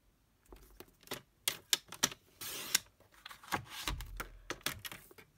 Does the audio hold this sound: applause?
no